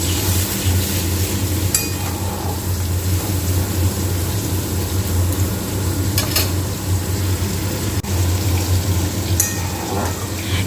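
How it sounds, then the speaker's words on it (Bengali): Rinse water from a bowl sizzles and simmers in a pan of spice paste for a Bengali mustard-poppy fish curry. The bubbling hiss is continuous and close, broken by a few faint utensil clinks, with no talking. "এবার আমি বাটি ধোয়া জল দিয়ে দেবো, দিয়ে খানিকক্ষণ ফুটিয়ে নেবো"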